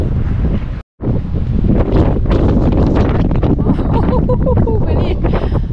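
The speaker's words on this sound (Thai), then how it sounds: "ลมมากลมแรงเพราะมันอยู่สูงเนาะ" Strong wind gusting at a high hilltop castle on the coast, loud continuous buffeting roar across the microphone with a brief dropout near the start, and faint voices under it.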